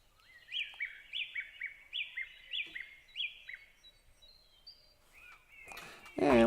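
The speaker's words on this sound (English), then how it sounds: "Benishiag, birds." Birds singing by a lake outdoors, the same bright chirping phrase repeating about six times in a steady rhythm, fairly clear and close; a voice comes in briefly at the very end.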